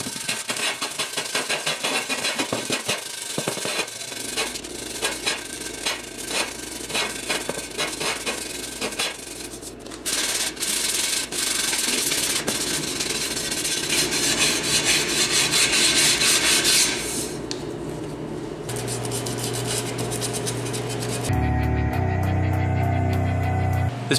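The back of a Miata wheel is lightly roughened by hand sanding, close, continuous scratchy rubbing strokes that shift in texture and pause briefly, ending with a different grinding tone.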